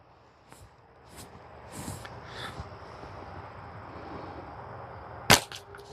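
A homemade slingshot fires once, a single sharp snapping crack near the end, following a stretch of low outdoor rustle and faint handling noise.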